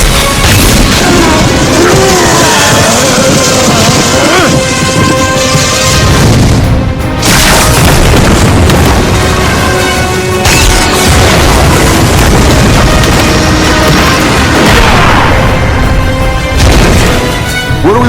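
A loud, booming explosion erupts with crashing, rumbling blasts that keep swelling for many seconds, dense and close throughout.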